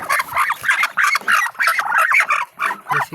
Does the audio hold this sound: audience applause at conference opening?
no